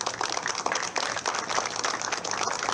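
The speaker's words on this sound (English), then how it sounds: "That deserves a round of applause." Crowd applause at the grand opening of the SOMA hotel, steady dense clapping from a large audience heard at a moderate distance and sustained throughout.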